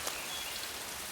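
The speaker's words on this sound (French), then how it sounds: "Merde, il pleut." Steady rain falling in the jungle of the video game Metal Gear Solid 3: Snake Eater, a dense, even hiss of drops on surfaces filling the short stretch without pause.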